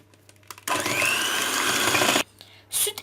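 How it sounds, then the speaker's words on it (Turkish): An electric mixer whirs loudly for about a second and a half as it whisks flour, eggs, honey and sugar into dorayaki batter, cutting in abruptly and stopping, with brief quiet handling noises before and after. "bir su bardağı un, yumurta ve şekeri çırpıyoruz"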